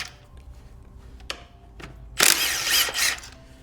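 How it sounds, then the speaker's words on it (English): A few sharp clicks from tool handling precede a loud, close burst of power-tool or ratchet whirring lasting about a second while brake calipers are removed from a motorcycle. "Now we're gonna get the calipers off of there."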